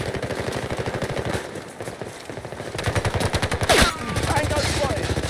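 Rapid automatic gunfire in the shooter game Battlefield 2042, a steady close stream of machine-gun bursts with a brief lull and a louder flurry near the end.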